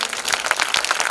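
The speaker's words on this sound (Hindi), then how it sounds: "यीशु मसीह के नाम से परमेश्वर के लिए जोर से ताली बजाएं," A church congregation claps loudly and quickly during worship, a dense run of sharp hand claps close by with no talk over it.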